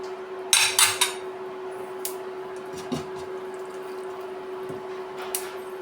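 Mustard seeds dropped into hot oil in a pan while making chicken pickle, giving a few soft clinks and light crackles near the start, then quiet sizzling over a steady hum.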